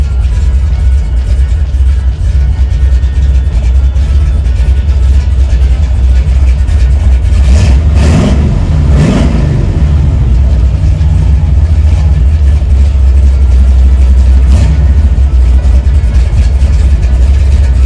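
A 5.3-liter LS V8 swapped into a 1949 Chevy Deluxe coupe, fitted with a Demon carburetor, idles steadily with a low rumble, with a brief swell in revs midway through before settling back to idle.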